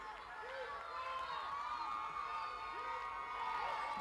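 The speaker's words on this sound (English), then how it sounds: "You can hear the roar of the crowd already." Roaring crowd packing an arena at the Cheerleading World Championships, a dense steady wash of cheering, whoops and shouting voices throughout, with overlapping chatter mixed in.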